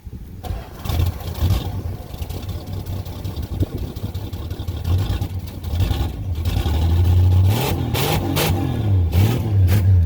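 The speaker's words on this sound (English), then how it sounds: "They'll give the exhaust sound." A 1966 Dodge Dart engine turns over and rumbles close by, then revs in a few rising bursts through the exhaust, loud and throaty.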